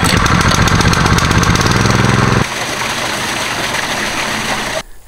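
A VEVOR cordless power washer runs loudly up close with a rapid rattling motor and hissing spray, then shifts to a steadier hiss before cutting off.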